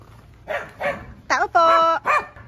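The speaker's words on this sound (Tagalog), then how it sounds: "Aso yung bumubungad." A dog at a house barks several times in close succession, loud and near, with a longer drawn-out yelping bark in the middle before a final short bark.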